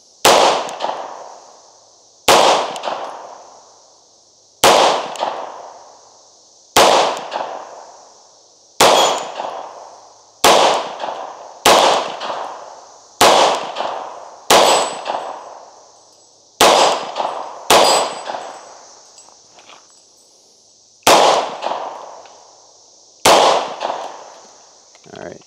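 Single pistol shots from a Tisas B9R double-stack 1911 ring out at an outdoor range, about a dozen sharp loud cracks spaced a second or two apart, each with a short ringing decay.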